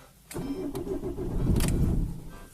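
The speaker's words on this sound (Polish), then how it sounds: "Auto zrywa i od razu gaśnie." An Opel Corsa 1.3 CDTI diesel with faulty glow plugs cranks and catches briefly, then dies almost at once, on a cold morning just above freezing; close and fairly loud, with no voices.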